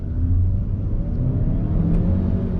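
The turbo engine of a 2016 Chevy Cruze pulls hard under heavy throttle, a loud, steady rumbling drone heard from inside the car.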